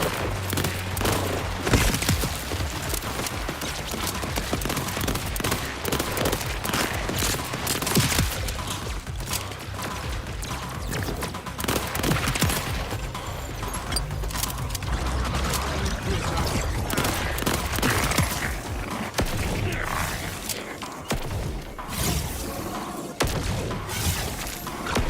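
Gunfire and little heat-seeking missiles in the video game Borderlands 4: dense, continuous bursts of shots and blasts over roughly 25 seconds, loud and steady, with crackling impacts and occasional shattering debris throughout.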